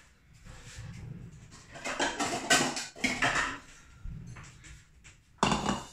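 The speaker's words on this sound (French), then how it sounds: "vous prenez carrément la casserole avec les pâtes, directement à la passoire" Pasta and its cooking water are tipped from a pot straight into a small colander in a home kitchen, giving uneven splashing and metallic clatter that swell in several loud bursts with short quieter gaps between.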